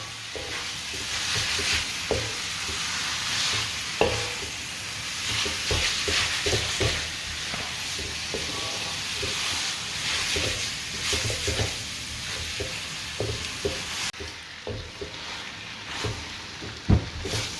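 Yellow egg noodles being stir-fried for mee goreng mamak, with steady sizzling and scraping of a spatula in the pan, dense continuous frying hiss punctuated by sharp metallic knocks, close and moderately loud.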